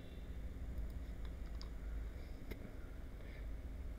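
Typing on a computer keyboard while software is being installed, a string of light clicks and a few sharper key taps spread across a steady low background hum.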